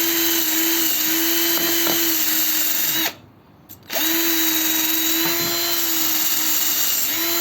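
An electric drill runs steadily while cleaning parts of a Znen Tommy 125 scooter under restoration, a loud continuous whine that cuts out briefly in the middle before starting up again.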